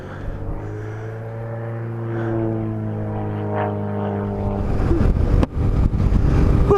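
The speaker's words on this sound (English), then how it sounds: "But a biplane doing stunts." A biplane doing stunts overhead produces a sustained engine drone that rises and falls in pitch, then a louder rushing, buffeting noise near the end as it passes.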